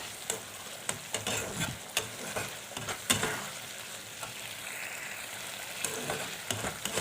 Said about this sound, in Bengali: ভেজে রাখা পটলগুলোকে দিয়ে একটু ভালো করে নাড়াচাড়া করে নেব।